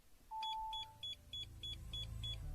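A StarLine i96 security system fitted to an Audi Q8 gives a run of short, evenly spaced electronic bleeps after a longer opening tone, heard close and clear inside the car over a low engine or cabin hum.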